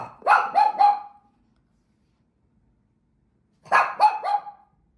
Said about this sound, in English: she ran straight into the living room, asserting dominance by barking